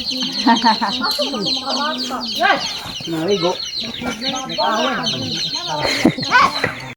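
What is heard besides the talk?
chickens clucking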